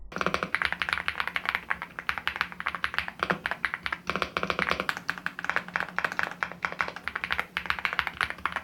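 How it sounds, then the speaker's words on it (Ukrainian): Steady rapid typing on an MCHOSE G75 Pro hot-swap mechanical keyboard, soft muffled thocky keystrokes in a continuous stream without rattle or hollow ring, close up with no voices. "Результат клавіатура звучить глухо, м'яко, без деренчання чи порожнього дзвону."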